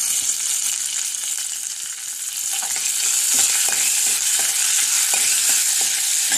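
Asafoetida and curry leaves hitting hot oil, a bright crackling sizzle that swells after a few seconds, with sharp pops and spatula taps over the steady hiss.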